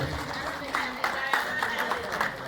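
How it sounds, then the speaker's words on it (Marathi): Scattered clapping from a crowd at an award ceremony during a Shiv Jayanti celebration, with claps arriving unevenly under a continuous stretch of speech. "टाळ्यांचा आवाज, टाळ्यांचा कडकडाट, टाळ्यांचा गजर."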